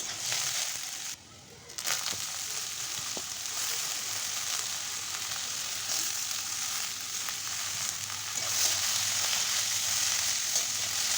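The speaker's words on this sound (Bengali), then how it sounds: "লবণটা দিয়ে এবার কেটে রাখা আলুগুলোও দিয়ে দেবো দিয়ে একটু ভেজে নেব" Potatoes and onion frying in a pan, a steady broadband sizzle holding at an even level throughout with a brief dip near the start, no voices over it.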